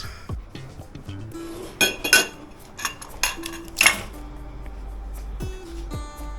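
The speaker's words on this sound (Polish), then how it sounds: "Naczynia." Dishes clink and clatter in several separate bursts, bright metallic and ceramic knocks close by, scattered irregularly over a quiet background.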